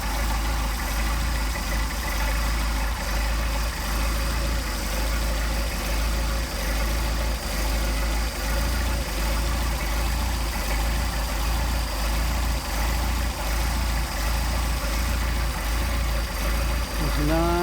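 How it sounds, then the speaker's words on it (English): A Mercedes 190SL with Solex carburetors idling at around 700 rpm on a cold start, a steady, even mechanical drone with a close, constant rumble and no break throughout. "it's still giving us a idle of about 700"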